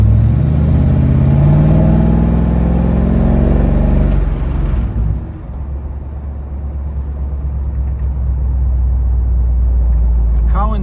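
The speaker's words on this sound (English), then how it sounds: "Dual exhaust sounds great." A 1971 Chevrolet Chevelle with dual exhaust runs loud and close, its deep engine rumble and revving filling the first half before settling into a lower, steadier idle drone.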